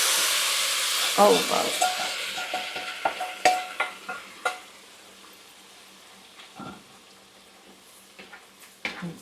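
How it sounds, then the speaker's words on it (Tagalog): Mung beans hit a hot pan for ginisang mongo, giving a sizzling hiss followed by a run of sharp scraping stirs and clinks that fade out, with a brief voice exclaiming. "And now I will add the mongo beans."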